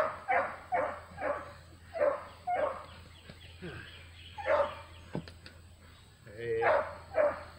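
A dog gives repeated short, close barks in a loose rhythm, with whimpering and whining between them and a person talking over the sounds.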